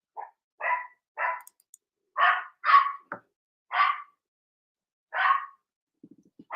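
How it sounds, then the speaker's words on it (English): A dog barks indoors in a series of about eight sharp, loud barks spaced irregularly, with brief quiet gaps between them and a few faint low sounds near the end. "I just had to quieten the dog down, barking at someone"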